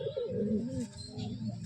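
Pigeons kept at a home loft coo close by in repeated low, throaty phrases, with a few soft chirps over a steady background and no talking.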